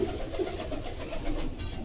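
Pigeons at a crowded pigeon market in Bogura give low, soft coos repeating under a steady hum of market noise.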